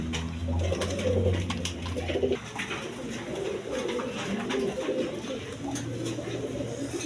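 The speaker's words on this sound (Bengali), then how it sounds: "এখানে এক পেয়ার বিউটি কবুতর আছে দেখেন" Beauty pigeons coo in low, throaty rolls over a busy background of rustling and faint murmuring voices.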